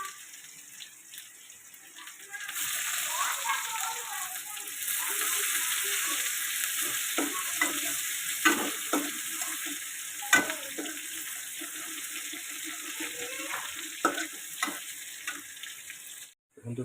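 Onions sizzle in a hot pan for Maggi noodles. The hiss is continuous and close, with occasional stirring clatter, and it fades out near the end.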